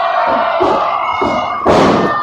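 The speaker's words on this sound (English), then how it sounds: "that pop-up powerbomb was devastating" Pop-up powerbomb in an SCW wrestling ring: several dull thuds of a body hitting the mat under steady crowd noise, ending in a louder burst of impact and cheering.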